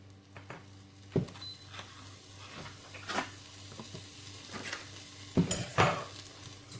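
Rice being sautéed in butter in a pot for chickpea and chicken pilaf, with soft, steady scraping of a spoon against the pot under a low constant hum, plus a few sharper metallic clinks near the end.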